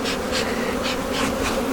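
Honey bees buzz loudly and close at an opened hive being shaken, a dense droning hum that swells in quick pulses throughout.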